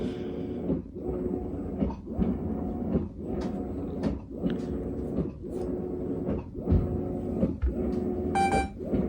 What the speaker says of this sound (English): while agitating, this machine like vibrates